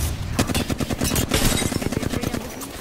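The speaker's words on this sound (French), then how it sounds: "On me tire dessus" Rapid automatic gunfire in the video game Apex Legends, a dense, loud stream of shots in quick rhythm lasting nearly three seconds with no talk over it.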